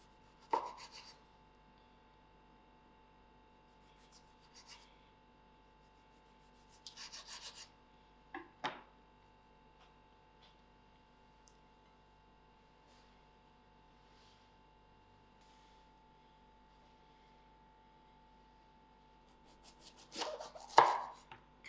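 A knife cuts a tomato into wedges on a board, a few short chopping and scraping strokes spaced out between quiet stretches, close and fairly soft, with no talking.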